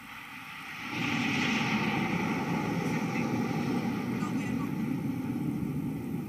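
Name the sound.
Hawk jet trainer aircraft flying past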